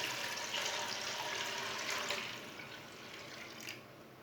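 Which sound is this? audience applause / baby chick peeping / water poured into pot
water poured into pot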